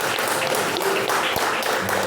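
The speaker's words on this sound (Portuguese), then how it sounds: "As palmas que louvam e engrandecem o nome do Senhor." A church congregation claps steadily in praise during a worship service, a continuous wash of many hands filling the room.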